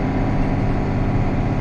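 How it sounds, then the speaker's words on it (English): The power-shift transmission of a farm tractor at work in a soybean harvest grinds through a downshift, producing a dense, loud, low mechanical roar with a rough rattle. It holds steady for the whole short span and nobody speaks. "Whenever this thing downshifts, it really makes a lot of noise. I suppose what can you expect from a power shift anyways"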